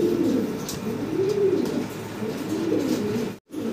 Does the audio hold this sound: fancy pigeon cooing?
yes